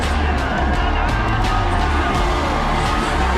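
A loud arena crowd cheers and whoops continuously after a 610-pound barbell lift at a strongman event, with shouting and excited babble throughout.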